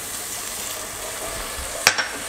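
White wine is poured into a hot pan to deglaze it for a French chicken chasseur sauce, producing a soft, steady sizzle heard up close with no talking, and a brief sharp clink near the end.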